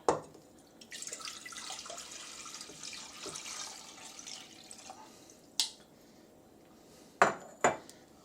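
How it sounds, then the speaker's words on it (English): Water poured out of a Pyrex measuring cup into a sink, a soft continuous splashing flow followed by a few sharp clinks of glass against hard surfaces, close and fairly quiet. "So dump the water."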